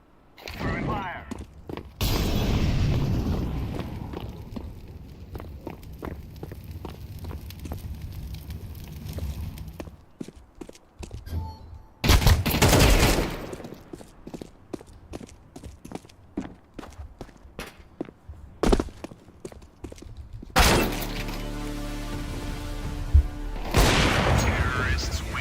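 A shooter video game match with an incendiary thrown, bursts of gunfire, booming explosions and a roaring flame hiss, plus footsteps and clicks between, loud and up close, with a player talking at times.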